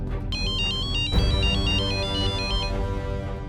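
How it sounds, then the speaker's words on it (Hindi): A phone ringtone plays as a call goes out to Vinita, a loud, repeating electronic melody of stepped high tones with a short break partway through, heard alone over a low background hum. "विनीता को फोन करता हूँ मैं।"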